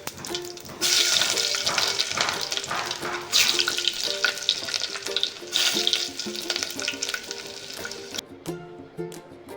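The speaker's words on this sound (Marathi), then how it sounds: "जिरे बारीक कापलेले लसूण मिरची कांदा टोमॅटो छान असे परतून घेतले" Garlic, green chili, onion and tomato sauté in a hot pan with mustard seeds and cumin, a loud sputtering sizzle that swells and fades with stirring, with clinks of a spoon against the pan and no voices.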